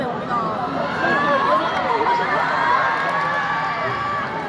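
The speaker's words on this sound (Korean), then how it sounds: "한 분 한 분씩 큰 박수로 맞이해주세요" A large audience at a Minecraft 15th anniversary event in Goyang cheers and claps continuously, a dense steady roar of voices and applause filling the whole stretch.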